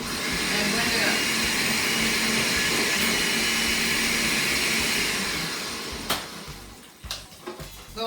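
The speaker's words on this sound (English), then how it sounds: "and blend it up." Countertop blender whirs loudly and steadily for about six seconds, mixing a lamb chop marinade with red wine vinegar, then winds down with a few knocks and clatters.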